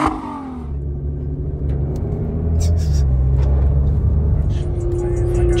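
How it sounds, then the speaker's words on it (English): Nissan GT-R launching hard, engine revving and rising in pitch as it pulls away, a loud continuous roar with shifting tones and road rumble, building steadily louder to the end. "GTR launch."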